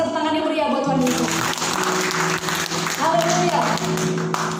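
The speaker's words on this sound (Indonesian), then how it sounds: "kasih tepuk tangan yang meriah buat Tuhan Yesus" A church congregation breaks into applause, a wash of many hands clapping at once, rising after a sung or spoken line and continuing with voices and music underneath.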